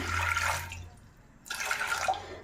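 Water pours into a pressure cooker set on a stove, two short splashing bursts separated by a brief pause, close and moderately soft.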